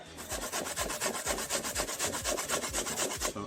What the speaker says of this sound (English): I go grate out the coconut for going at the stew saltfish